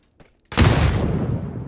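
A sudden, loud explosion bursts in after a brief quiet, followed by a long, heavy rumbling roar that keeps going without fading, in the video game PUBG.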